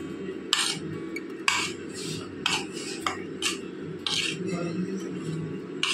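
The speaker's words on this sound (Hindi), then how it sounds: "सभी को मिक्स कर लेंगे।" Sliced onions being tossed with chaat masala in a metal bowl, a spoon clinking against the sides in short repeated bursts over a steady low kitchen hum, close and moderately loud.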